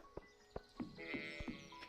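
Game sheep in Stardew Valley bleat softly amid ticking farm ambience and faint background music, with a few brief calls across two seconds.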